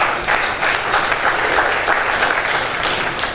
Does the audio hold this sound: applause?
yes